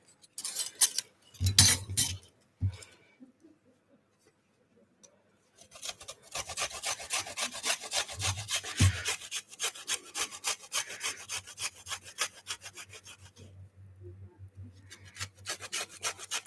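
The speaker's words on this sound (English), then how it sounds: "So peel your ginger before you get to this point if you want." Fresh ginger being peeled or scraped for a teriyaki chicken stir-fry, with steady close rasping strokes in quick rhythm after a few separate knocks on a hard surface.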